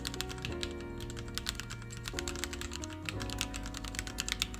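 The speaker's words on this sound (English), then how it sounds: "I'm also going to be using Gateron Milky Yellow Pro switches, which are linear and are pre-lubed from the factory. I really like how these feel and sound." Keystrokes on Gateron Milky Yellow Pro linear switches, factory pre-lubed, on a Corne split keyboard: a steady run of soft, fairly quiet clacks, close up, with a low hum and a few tonal shifts underneath.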